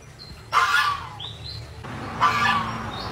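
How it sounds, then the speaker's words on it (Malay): A goose calls out twice in loud, harsh honking bursts close by, each followed by fainter trailing calls over a low background hum. "Angsa ni tak nak kalah. Dia pun nak bercakap juga dalam live tadi."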